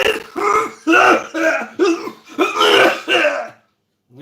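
A voice imitates a scary cough as a run of about eight harsh, raspy throat-clearing coughs in quick succession, loud and close, then a short silence.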